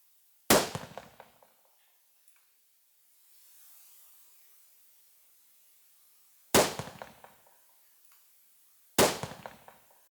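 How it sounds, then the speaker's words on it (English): Rifle test shots at a 300-meter target through a ZEISS BDC scope: three loud, sharp cracks with quick decaying echoes, the first alone and the other two several seconds apart, separated by quiet. "I set the BDC to 3 for 300 meters and take a test shot."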